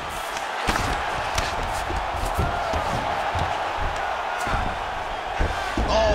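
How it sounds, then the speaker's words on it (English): Crowd roar in a UFC 5 video game heavyweight bout, swelling as two fighters rise from a grappling exchange on the mat; a steady, loud arena din with scattered louder bursts throughout. "Big pop from the crowd as they get back to their feet"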